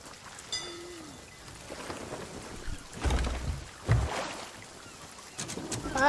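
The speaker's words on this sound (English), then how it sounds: "Storm's coming." A thunderstorm at sea in the pirate game Sea of Thieves brings steady rain hiss and water sloshing around a ship, with a couple of deep rumbling swells of thunder partway through and no talking.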